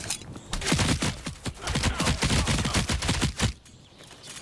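Rapid gunfire from the action RPG Seven Cities, a dense burst of automatic shots with some heavier blasts mixed in, loud and continuous for over three seconds before dropping off, no talking.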